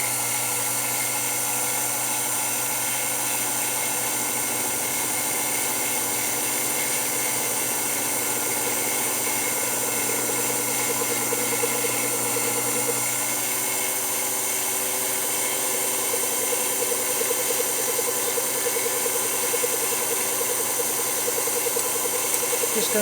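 Emco Unimat 3 mill with its motor running, a steady whining hum with tonal overtones holding close and constant throughout, picking up faint rattling toward the end.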